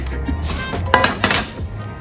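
A frying pan is tilted against a plate to turn out omelette rice, giving a few clinks and scrapes of metal on ceramic, with no talking.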